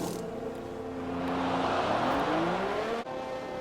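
Formula 1 race cars of the 2021 season leaving the pits, a loud high engine whine rising in pitch as one car accelerates past, with a brief cut near the end.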